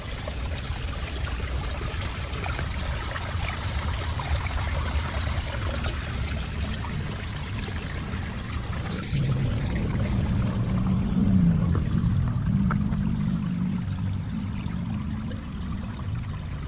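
Water pours and trickles steadily from an outflow into Manila Bay, the water cloudy and soapy-looking, a constant close rushing noise that swells slightly louder midway.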